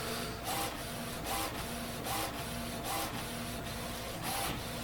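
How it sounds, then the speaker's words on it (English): An HP Officejet 6700 Premium inkjet printer prints with a continuous rasping whir and a rhythmic print-head shuttle, about five passes at a steady pace, faint and with no voices. "So it's printing"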